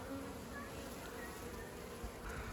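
Honey bees swarm over a brood frame of capped worker cells inside an open hive, producing a dense, steady buzz that fills the whole moment close up without a break.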